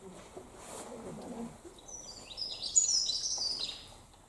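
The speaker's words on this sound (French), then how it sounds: "Il n'y a pas 2 oiseaux qui chantent pareil." Wild birds sing near nest boxes at Pordic, with high, thin chirping trills rising in the second half, fairly faint and distant, after a soft murmur of voices at the start.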